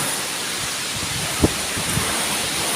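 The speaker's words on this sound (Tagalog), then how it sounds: "Grabe lakas dito ng ulan. Ng bagyo hangin." Steady, dense hiss of heavy typhoon rain in Batangas, Philippines, with a roaring wind-like wash, constant throughout, with a brief thump partway.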